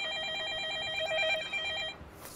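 A telephone ringing in the horror video game Project H: a steady electronic bell trill repeating for about two seconds, then cutting off abruptly, with no one talking.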